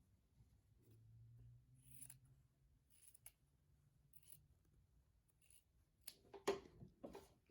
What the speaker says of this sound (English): So next you'll cut off the extra pieces.